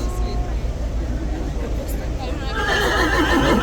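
A horse at Horse Guards in London whinnies, its neigh rising clearly near the end amid crowd chatter and outdoor background noise.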